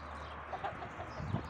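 Gold Brahma roosters clucking in a pen, soft scattered clucks that grow louder and closer toward the end over a steady background hum.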